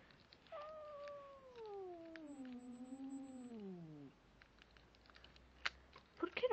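A long, drawn-out cat meow that slowly falls in pitch over a few seconds, followed by scattered soft clicks and rustles.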